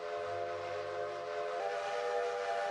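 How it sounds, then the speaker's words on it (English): A steady steam train whistle sounds continuously with layered tones, shifting pitch slightly partway through, over a low rumbling background. "All the passengers in that train enjoy the sound of a whistle"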